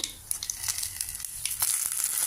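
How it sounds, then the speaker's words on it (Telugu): Curry leaves crackle and sizzle in hot oil up close, with sharp pops scattered over a steady frying hiss. "పోపు వేగింది ఇందులో కొద్దిగా కరివేపాకు"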